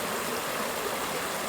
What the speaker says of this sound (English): You can see the creek coming down through there.